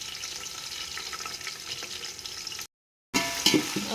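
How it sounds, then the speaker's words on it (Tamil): Sliced onions frying in oil in a pan for biryani, a steady close hiss and crackle, broken by a brief silent gap before the sizzle returns with some stirring clinks. "நல்லா வணங்கட்டும், கலர் மாறட்டும்"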